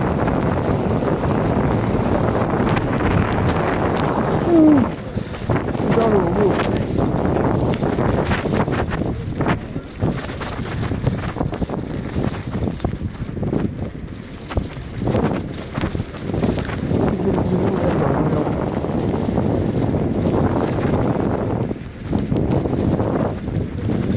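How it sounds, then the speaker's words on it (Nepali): Strong wind buffeting the microphone outdoors at night, a loud continuous roaring rumble with gusty swells that never lets up. "हावा पनि निकै चलिरहेछ"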